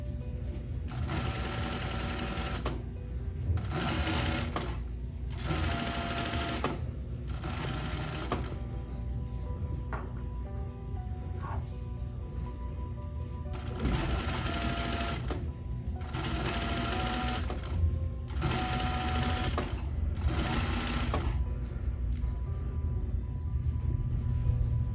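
A sewing machine stitches through layers of a blanket coat in repeated bursts of rapid whirring, each lasting a second or two, separated by short pauses, loud and close.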